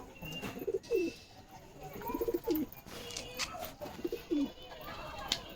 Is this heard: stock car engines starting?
no